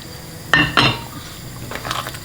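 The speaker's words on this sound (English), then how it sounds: "And you stir it." Utensil clinking against a pan while salmon pasta sauce with spinach is stirred, two sharp scraping knocks early on, then softer scattered taps and light sizzle, close by with no talking.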